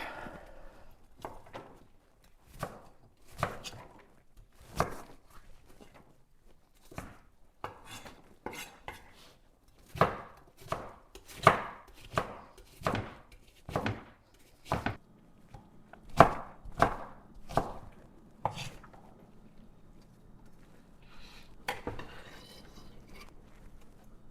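Onions are sliced on a cutting board, giving a steady run of sharp, close knife strikes, sometimes spaced and sometimes in quick clusters, over a quiet background with no talking.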